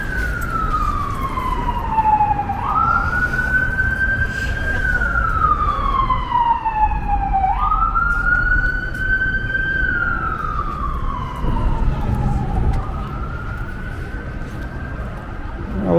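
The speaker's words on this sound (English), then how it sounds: "it's an ambulance again. He likes to play his siren." A loud wailing ambulance siren rises and falls in long sweeping cycles, close by, over steady traffic rumble on a street in Carroll Gardens, Brooklyn, New York.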